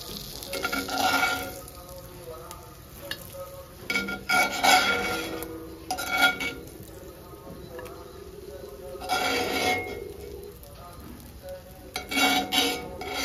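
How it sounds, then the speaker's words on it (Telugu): Bangada mackerel fries in oil on a low flame and is turned over, giving intermittent bursts of sizzling and utensil scraping against the pan between quieter stretches. "సిమ్లో పెట్టుకొని అటు ఇటు తిప్పుకుంటూ ఫ్రై చేసుకోవాలి"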